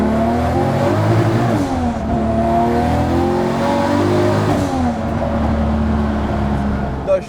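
Turbocharged Toyota Supra drift car running on E60 ethanol revs hard and accelerates, its loud engine note climbing and falling through the gears across the whole stretch, close and continuous.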